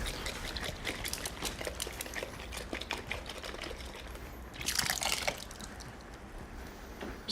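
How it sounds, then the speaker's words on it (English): Small amount of water poured into a nearly empty kitchen container, a soft trickling and splashing with irregular drips, faint and close, swelling briefly into a fuller gush before settling back to light dribbles. "And fill it with a little water so you can get the rest of that out."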